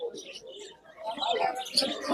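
Doves coo among other small cage birds chirping at the Fatulla bird market, a busy mix of calls heard under nearby people talking.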